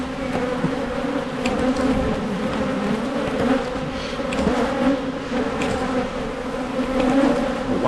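Honey bees buzz continuously around an open hive during swarm-control work, a close, dense droning hum with small swells of wingbeat noise and no talking.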